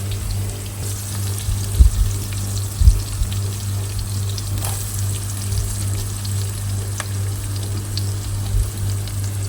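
Onions, capsicum and egg whites sauté in a skillet with a steady, close hiss of frying. A low hum sits underneath, and a few soft knocks from stirring come through. Nobody speaks.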